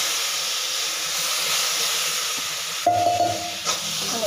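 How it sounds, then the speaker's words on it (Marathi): A few spoonfuls of water hit a hot pan of spicy green chili mirchu and a continuous steam hiss rises. Near the end a brief tonal whine cuts in over the hiss. "थोडंसं पाणी टाकणार आणि एक वाफ काढून घेणार"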